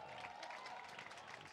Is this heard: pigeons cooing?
no